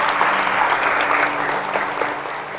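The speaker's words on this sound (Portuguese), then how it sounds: "aplauda Jesus mais uma vez" A prayer group breaks into brief, steady clapping at the close of a sermon, a dense moderately loud patter of many hands lasting a couple of seconds over a faint low hum.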